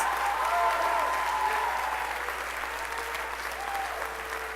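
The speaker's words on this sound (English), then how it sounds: "Let's give a huge round of applause for this year's seniors." A crowd applauds graduating seniors at a school spring band concert in Strongsville, a thick sustained wave of clapping in a large hall with faint cheering under it, easing slightly toward the end.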